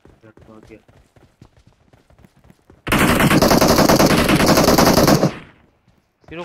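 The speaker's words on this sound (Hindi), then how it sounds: "बरोबर बॉट के लिए इतना गोली चला रहा है क्या?" A video game machine gun lets loose a dense, continuous burst of rapid fire that lasts over two seconds, loud and close, coming after stretches of excited talk among the players.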